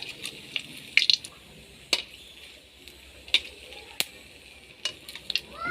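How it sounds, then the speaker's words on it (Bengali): Cinnamon, cardamom and bay leaves go into hot mustard oil for a beef curry, bringing a light sizzle broken by sharp clicks and spatters as the pan is stirred at close range. "এখানে আমার সর্ষের তেলটা গরম হয়েছে, এখন দিয়ে দেব ডালচিনি, এলাচ আর কিছু তেজপাতা।"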